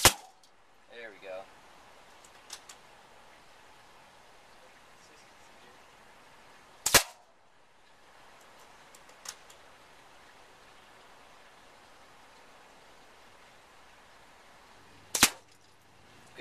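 Gunshots crack sharply at metal cans in an outdoor target session, two loud isolated reports spaced several seconds apart with a few fainter ticks and clanks between, and quiet ambience otherwise.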